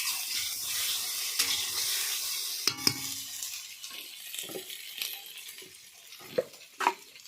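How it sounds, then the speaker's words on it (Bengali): Food stirs and fries in a pan over a wood fire, a steady hiss of sizzling with scattered scrapes and knocks of the stirring utensil against the pan, close and without talk. "হালকা করে অল্প জাল দিতে হবে, কাঠের জালে রান্না করছি যদিও"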